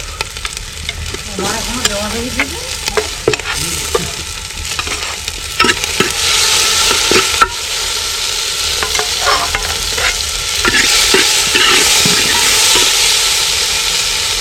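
Tomatoes hitting a pan of hot oil with garlic and ginger paste in a village kitchen: loud, continuous sizzling and hissing that swells stronger midway, broken by frequent clattering stirs of a spoon, no speech.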